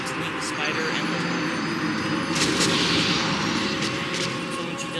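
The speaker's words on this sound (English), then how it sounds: "So when she does the explosion attack, you don't need to go." Explosive blast attack from the boss Queelag in the action game Dark Souls, heard as loud booming bursts and crackling fire over continuous dense combat noise, with a voice talking over it.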